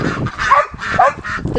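Ducks just woken from a nap in a backyard garden duck pen, loud agitated quacks and honks in quick bursts, close by.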